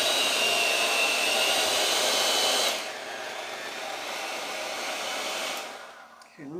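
Electric hand mixer beating low carb double chocolate chip cookie batter, a loud, steady motor whir that drops in pitch and strength partway through as the beaters work, then cuts out at the end.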